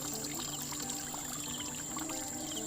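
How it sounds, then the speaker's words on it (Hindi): Cold spring water running from a mountainside source pours steadily and continuously with a bright splashing hiss, close and unbroken throughout, with no voices. "ये कला है पानी पीने की, और इतना ठंडा पानी ये है।"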